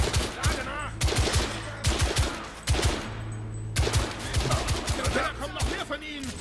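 Rapid gunfire from The Order 1886, loud and close, with weapons firing in dense automatic bursts separated by brief pauses, alongside game effects.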